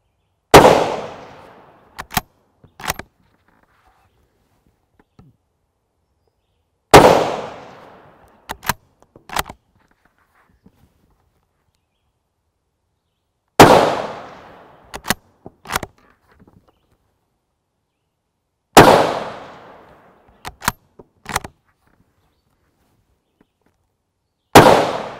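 Unsuppressed rifle shots from 7.62x51mm 145-grain M80 ball FMJ ammunition fired off a bipod: four loud, sharp single reports spaced several seconds apart, each followed by a brief decaying echo and a few quick clicks or rattles.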